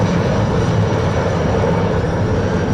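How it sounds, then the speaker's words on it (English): A loud, steady mechanical roar of three IAR-330 military helicopters passing overhead at an airshow, a dense continuous drone with no pauses. "this 3-ship of IAR-330 helicopters."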